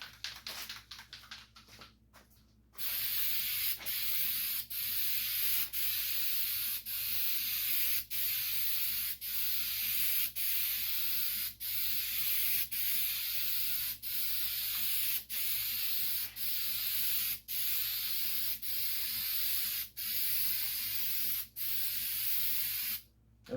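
Rubberized coating hisses from a spray can onto car running boards in steady bursts, each a few seconds long with brief pauses between, close and alone without talk.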